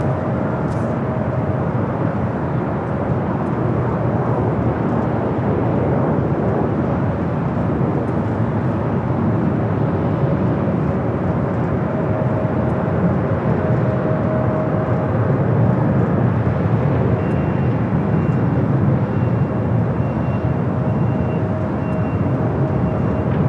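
A Delta Boeing 757-200 from Boston arrives at Los Angeles International Airport on the north side, producing a steady, broad jet roar that holds continuously at a fairly loud level throughout, with no voices.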